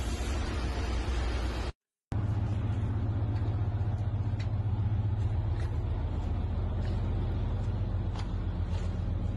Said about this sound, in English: It does sound like the engines are still running, however.